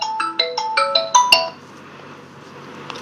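An incoming-call ringtone on a telephone plays a quick rising run of bright electronic tones, repeating several short notes over about a second and a half, then cuts off into quiet room hiss.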